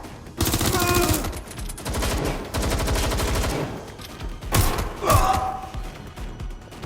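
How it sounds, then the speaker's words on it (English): Gunfire in the video game Watch Dogs: Legion, with rapid automatic bursts and loud mechanical rattling, sustained over several seconds and followed by a couple of sharper shots near the end. "They're shooting at us! I'm getting shot at here!"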